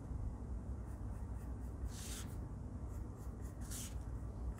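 Wooden pencil scratching across a surface while drawing a mouth on a craft robot, a steady close rubbing scrawl with a few brighter stroke bursts over a low background hum.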